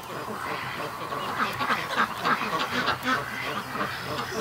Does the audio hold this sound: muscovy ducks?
yes